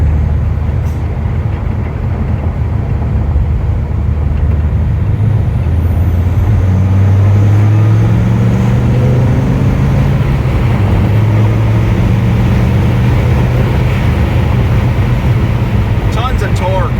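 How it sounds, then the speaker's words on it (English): A 2001 Dodge Viper GTS ACR with 8k miles, heard from the driver's seat as it accelerates hard from about 30 to 80 mph at roughly two-thirds throttle, a loud, deep engine roar rising steadily in pitch, with a voice speaking over it. "we just went from about 30 to 80 without much effort, probably 2/3 of a pedal."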